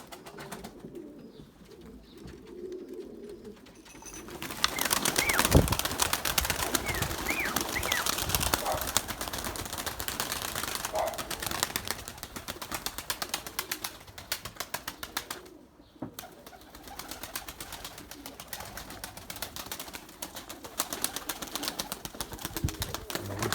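Pigeons coo and flap their wings close by, a steady soft rustle and murmur that swells after the first few seconds and carries on throughout with brief dips, no voices over it.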